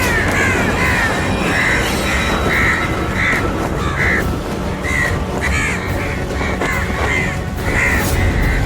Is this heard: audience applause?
no